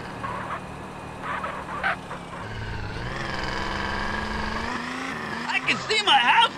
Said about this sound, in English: CJ, rev this bitch up!